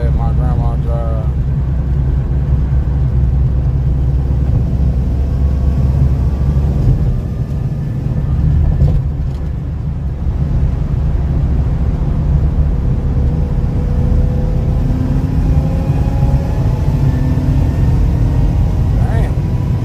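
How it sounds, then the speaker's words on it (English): Supercharged drag racing car at a dragstrip, its engine droning and rumbling steadily close by, swelling as it revs, with people talking over it throughout. "hear that supercharger now."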